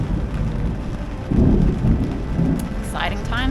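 Heavy rain and rumbling thunder in a lightning storm out on the water aboard a motoring boat, a dense steady wash with a low swell of thunder partway through and faint chirpy sounds near the end.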